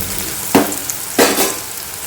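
Chicken pieces going into a pan of golden-fried onions, two bursts of sizzling frying at about half a second and a second and a quarter, each fading into a steady crackle, with no voices.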